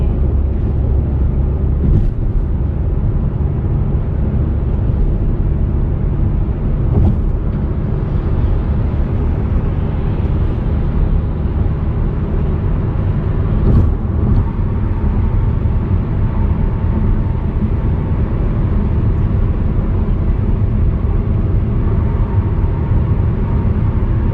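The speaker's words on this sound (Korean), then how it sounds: "지금 100km 좀 넘게 밟고 있는데" A car cruises on a highway at just over 100 km/h, a steady, loud road and engine rumble with wind roar throughout and a few faint thumps, with no talking.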